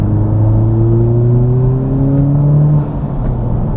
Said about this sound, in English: see if we can get some intake noises